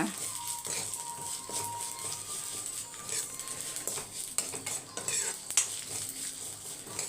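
A spoon scraping and stirring dry-roasted ingredients in a hot pan on the stove, with soft clinks of utensil against metal over a faint background hiss, continuous for several seconds with no talk.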